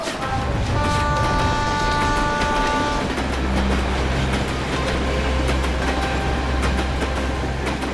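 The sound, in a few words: train leaving the station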